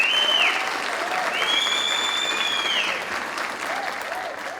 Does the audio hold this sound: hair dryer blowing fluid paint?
no